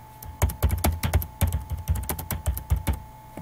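Fingers typing on a computer keyboard in quick irregular bursts of close, crisp key clicks, with no talking.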